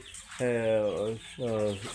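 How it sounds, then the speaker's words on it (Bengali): Two drawn-out, strained calls from layer hens on a poultry farm, close and clear with a short pause between them. "দেখেন লাইজা মুরগি লাইজা মুরগি কী লেভেলের লাইজা মুরগি"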